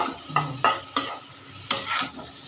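Paneer and potato curry stirred in a pan after a spoonful of sugar is added, with a low sizzle beneath several sharp, irregular scraping strokes from the spoon, close and fairly loud, no talking.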